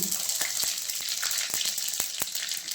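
Mustard seeds and fennel seeds frying in hot oil for a drumstick kootu, with a steady bright sizzle broken by sharp, irregular pops and crackles as the seeds burst, close up and with no talk.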